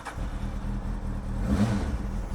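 A Honda Hornet motorcycle rides down the road, a steady mid-pitched engine drone, moderately loud and close, rising slightly as it pulls away.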